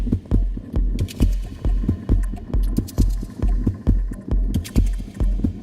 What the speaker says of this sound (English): It's still the heartbeat, you hear?